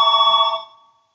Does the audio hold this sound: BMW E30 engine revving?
no